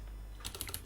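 Quick burst of typing on a computer keyboard while writing Python code, several light close key clicks in rapid succession after a brief quiet hum.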